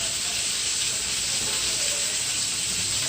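Garlic prawns fry in a pan with a steady, close, bright sizzle and hiss that holds evenly throughout, with no voices.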